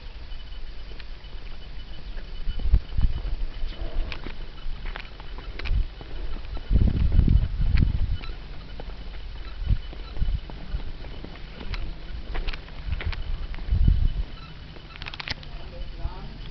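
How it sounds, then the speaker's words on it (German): A small horse walks near a sports hotel in Friedrichsbrunn in the Harz, its hooves making irregular, muffled clip-clops over a steady outdoor background. "Hier sieht man das Pferdchen."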